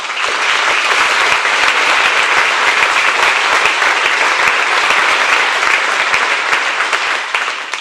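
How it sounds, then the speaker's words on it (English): Dense, loud applause from a banquet audience at a Chamber of Commerce awards dinner honoring military members, a sustained wash of many hands clapping evenly for several seconds without speech. "recognize any of our military people and just give them a round of applause tonight"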